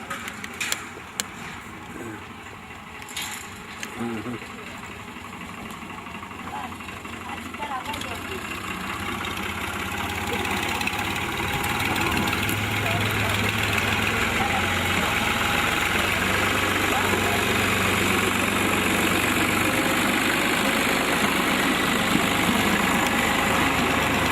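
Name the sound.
motor engine running and idling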